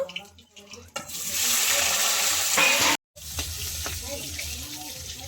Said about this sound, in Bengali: এবার আমি এঁচড়টা ভেজে নেব